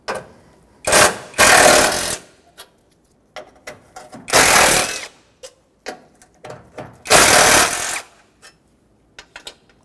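On a Ford Excursion, a ratchet or power tool removes 8mm bolts from a radiator bracket in three loud whirring bursts of about a second each, close by, with scattered clicks and taps between them.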